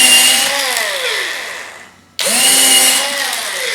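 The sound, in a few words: power drill driving screws into a lathe faceplate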